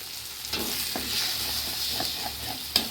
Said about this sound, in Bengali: টক দইটা দিয়ে খুব ভালো করে নাড়তে হবে